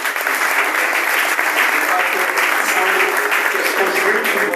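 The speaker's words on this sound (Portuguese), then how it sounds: "Salva de palmas." A church audience in Angola breaks into loud, sustained applause, a dense continuous wash of clapping heard close with a faint voice beneath it.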